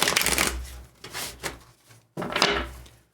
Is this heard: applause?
no